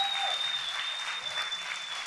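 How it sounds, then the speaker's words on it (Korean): Studio audience at a Korean talk show claps in a steady, dense round of applause, with a thin electronic tone running faintly underneath and no talking. "이 모든 분들 대박 나시라고 박수 한번 불러주세요."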